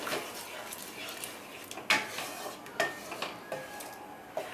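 Paneer curry with milk being stirred in a kadai, soft spoon scrapes and a few sharp clinks against the pan over a quiet background.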